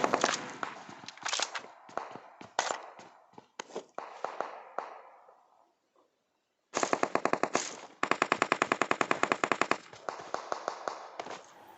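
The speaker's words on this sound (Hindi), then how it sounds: "अब रोड के वो साइड पे बहुत ज़्यादा फायरिंग के साउंड आ रहे थे।" Rapid bursts of automatic gunfire in PUBG Mobile, near and sharp, in clusters separated by a short quiet gap, then sustained volleys of rhythmic shots.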